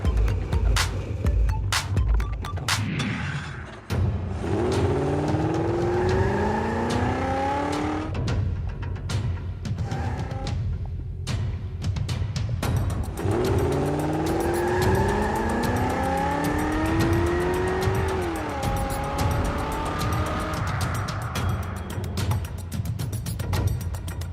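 A car attacks a gymkhana course on a charity hot lap between two celebrities, its engine revving up and down in repeated sweeping surges, with tire squeals, loud and near throughout.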